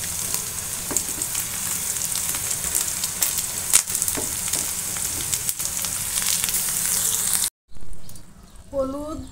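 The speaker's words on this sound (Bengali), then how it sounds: "দিয়ে এখন সুন্দর করে আবার ভুনবো মশলাটা" Spice paste of ground cumin, ginger and garlic with turmeric, chili and coriander powder frying in a pan, a dense continuous sizzle with stirring scrapes, close and loud, ending in a brief quiet patch and a short voice.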